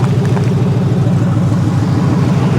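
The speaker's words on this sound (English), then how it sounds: "honestly though, the engine seems to be running pretty well." A Ford F150 with the 3-valve engine runs steadily close by, a loud, even low rumble with no change in pace and no voices.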